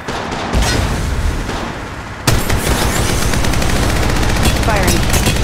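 Loud, continuous automatic gunfire in the mobile game Apex Legends Mobile, a dense rattle of close shots with heavier bursts and booms, layered under game voice lines.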